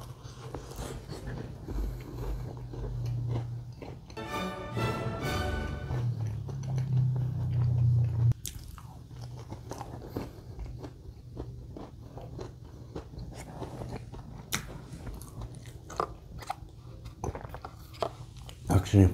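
Egg tart being eaten close to the microphone in a bakery-bread mukbang, crisp flaky bites and crunching followed by moist chewing, loud and intimate, with a voice talking in between.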